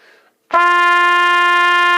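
A trumpet aiming for a D played too tight and blown too fast jumps to a higher, thinner sustained note, loud and steady, after a faint brief sound and short silence.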